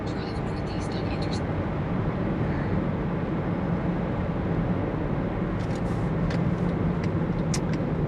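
A car's engine and road noise hum steadily from inside the vehicle as it drives through a parking lot, with a person speaking over the constant rumble.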